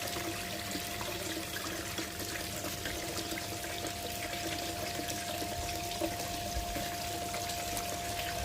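Water runs steadily through a gold concentrate sluice, a continuous, even rush and trickle with no pauses and no voices.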